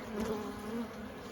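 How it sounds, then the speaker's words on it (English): Honey bees cluster inside an opened Langstroth hive during a spring inspection, giving off a soft, continuous droning buzz that stays faint and even. "So, got a pretty good cluster of bees in here."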